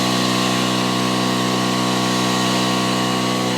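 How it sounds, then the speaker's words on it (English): An air compressor hums steadily in a garage during work on a 350Z's springs, a constant mechanical drone with a strong harmonic tone that runs unchanged throughout, loud and continuous. "The compressor noises in the back."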